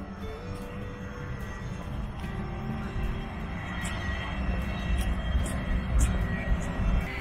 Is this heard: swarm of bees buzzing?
no